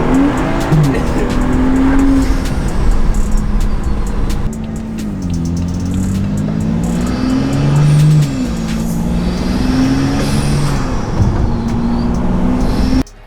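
A BMW race car engine drones loud and close on track, its pitch rising and falling through gear changes, with some tire noise over the steady roar.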